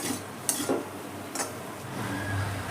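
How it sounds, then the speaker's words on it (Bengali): Spatula stirring capsicum and mixed vegetables with pav bhaji masala in a pan, a couple of brief scraping clinks against the metal over a soft background hiss, close and fairly quiet. "পাওভাজি মশলাটা দিয়ে আবারও একবার আমি নেড়ে নেবো।"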